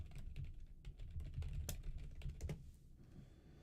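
Steady typing on a computer keyboard, a quick irregular patter of soft key clicks close by, with no talking.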